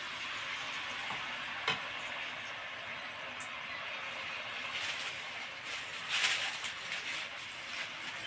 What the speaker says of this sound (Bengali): তেলটা গরম হয়ে গেছে। এবার এইভাবে মালপোয়াগুলো ছাড়ব।